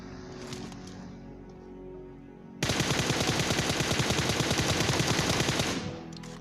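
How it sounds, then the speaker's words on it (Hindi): Rapid bursts of automatic gunfire in a video game erupt after a quieter stretch of game ambience, a dense rattling volley lasting several seconds before cutting off. "भाई साहब ये बंदा गोली चला तो रहा था, लेकिन इसकी गोली एक भी कनेक्ट नहीं हुई मेरे पे।"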